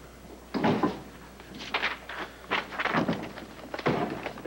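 A door is handled as someone barges into a room in a 1996 All My Children scene, giving several soft thunks and bumps in quick succession at moderate distance, with no speech.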